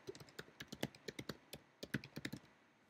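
Someone types on a computer keyboard during webcam setup, producing a quick, uneven burst of crisp key taps close by, with a brief pause near the end and no talking.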